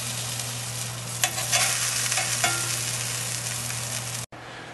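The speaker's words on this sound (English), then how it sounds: "after about a minute, you'll notice some browning on the edge of your corn cakes, and you can just give them a flip at that point" Corn cakes frying in a skillet, a dense, even sizzle close to the ear with a few louder crackles, ending in a sudden cut.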